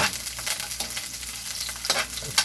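Chopped onion hits a hot pan with garlic already frying, a bright continuous sizzle broken by scraping stirs, close and loud.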